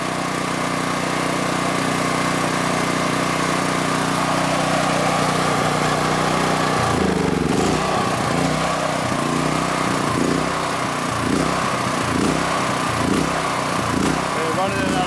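DuroMax XP13000EH dual fuel generator running as its fuel runs out, a steady loud engine drone that turns to a rough, pulsing sputter about halfway through as it starves.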